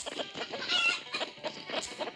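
A chicken clucks in a short burst of close, repeated, throaty calls, with no talk over it.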